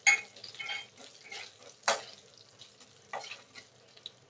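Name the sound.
mustard seeds, cumin and garlic frying in oil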